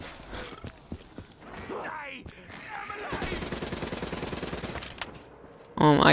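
Gun firing in a video game: a rapid series of sharp shots building into steady automatic fire in the middle, mixed with clicks and mechanical game sounds, moderately loud under occasional voice.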